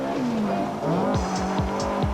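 Rally cars race on a closed mountain road special stage, engines revving up and down through gear changes with a tyre squeal as a car passes close and fairly loud.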